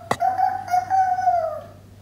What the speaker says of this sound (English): The rooster woke Tante in the morning.